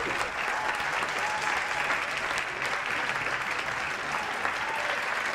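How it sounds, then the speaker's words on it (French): A French TV studio audience applauds two talk-show guests, moderately loud and even, with continuous clapping from start to finish. "applaudissements pour mes deux invités"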